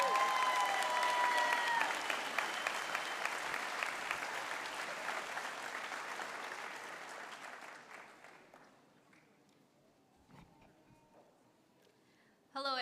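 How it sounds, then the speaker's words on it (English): Loud, dense applause from a large crowd at a high school graduation ceremony fills the space, holding steady before thinning out into scattered claps and quiet near the end. "let's give a round of applause"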